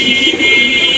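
A pigeon at a home pigeon farm gives a loud, close, rolling coo that runs continuously for about a second, with no voices.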